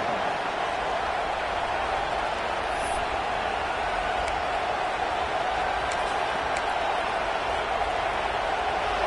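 A stadium crowd at a football game gives off a steady, broad roar that stays even and full throughout, with faint higher whistles or cries poking through now and then.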